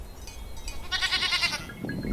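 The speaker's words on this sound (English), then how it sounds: "Barnabus, chase that goat!" A goat in The Witcher 3 bleats in a short wavering cry mid-clip, with faint game ambience around it and a brief rustle at the end.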